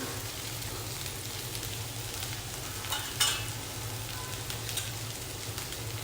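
Khichdi frying in a pan as red chili powder and spices are stirred in, a continuous close sizzle with a few louder scrapes of stirring partway through.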